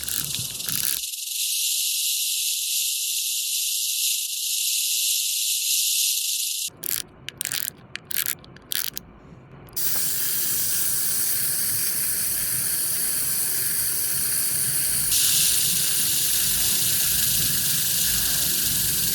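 A Harry Potter collaboration wristwatch by Zbioland, whose wound mechanism drives a gold snake along twelve gears around the dial, gives a steady hissing rattle meant to imitate a rattlesnake. The rattle runs loud and continuous, broken only by a few brief gaps.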